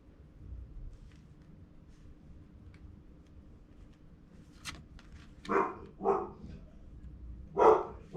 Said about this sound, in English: My dog is freaking out because the trash is getting stolen right now.